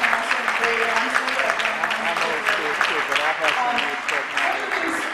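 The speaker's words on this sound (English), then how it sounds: "Can we get a round of applause for actor, director, producer Robert Townsend and Ray Ramsey?" An audience applauds actor, director and producer Robert Townsend and Ray Ramsey, with dense, steady clapping running throughout at even loudness and voices mixed in beneath.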